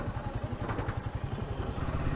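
A motorcycle rattles and thumps over a bumpy bridge on a mountain road trip in Uttarakhand, with rapid rhythmic clattering jolts under the engine's low drone, close and fairly loud with no talk.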